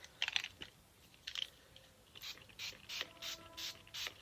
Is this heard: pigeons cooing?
no